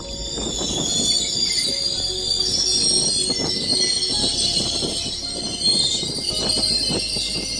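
A train runs along the railway track, its wagons rumbling steadily with dense rattling wheel clatter and a high squeal of wheels on rails throughout, loud and close.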